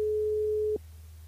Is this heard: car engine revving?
no